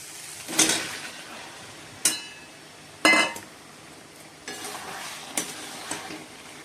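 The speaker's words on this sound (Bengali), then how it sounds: "মশলাটা কষানো হয়ে গেছে, এবার মাটনটা দিয়ে দেবো" Mutton pieces go into a pan of fried spice masala, sizzling as a spatula stirs and scrapes in a few sharp bursts, close and fairly loud, with no speech.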